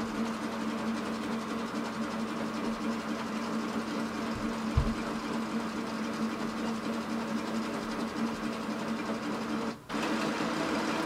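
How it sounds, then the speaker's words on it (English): An HP Deskjet 3700 printer feeds in a page and scans it, a continuous mechanical hum and whir with a low knock partway through and a short dip near the end. "You will see it's taking the page in automatically and it's going to transfer the scan."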